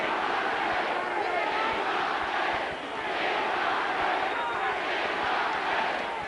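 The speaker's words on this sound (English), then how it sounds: "Crowd starting to roar." A boxing arena crowd roars at a heavyweight fight, a dense, sustained wall of cheering that swells and dips over several seconds.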